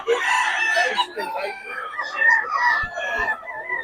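A three-year-old rooster crows in a long, wavering call, loud and close, with other birds clucking and calling around it.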